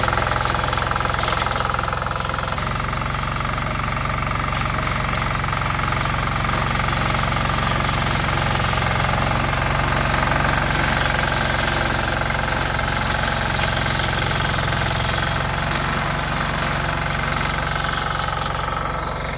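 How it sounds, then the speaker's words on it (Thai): A ride-on lawn mower engine runs loud and steady nearby, a rough, knocking drone that holds throughout without pause. "ตัวนี้รถตัดหญ้า"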